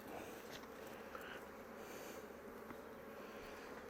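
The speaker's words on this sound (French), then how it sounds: "Attention, je vois que j'ai coincé une abeille." Honey bees drone steadily at a beehive, a dense continuous buzz close by with a few individual bees passing nearer.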